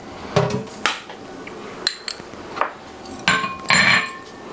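Flour, baking soda and salt being mixed in a bowl for banana bread, with scattered clinks and knocks of a utensil against the bowl, irregular and fairly close, with no talk.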